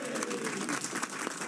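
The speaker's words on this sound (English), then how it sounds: "that's worth a round of applause, isn't it" Brief applause for a young boy among a crowd at a football occasion, a short, even burst of clapping that lasts under two seconds.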